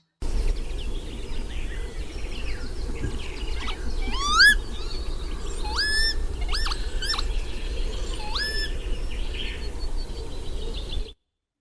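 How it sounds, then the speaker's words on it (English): Several wheezy, rising bird calls of a lapwing in Upper Teesdale, repeated at intervals over a steady outdoor background hum, fairly clear and moderately near. "Lapwing Sound."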